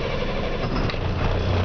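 A truck engine turns over and settles into a steady, low rumbling idle, close and continuous with no talk over it.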